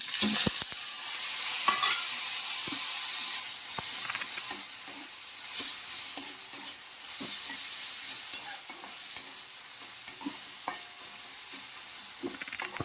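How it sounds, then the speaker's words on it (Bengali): Chopped tomato fries in oil with browned onions, a continuous close sizzling hiss broken by repeated scraping and tapping of a spoon being stirred through the pan; no one speaks. "এবার এর মধ্যে আমি একটা গোটা টমেটো কেটে দিয়ে দিলাম"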